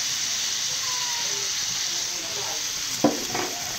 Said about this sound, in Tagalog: Gisa na ako ng bawang at sibuyas. Tapos baka.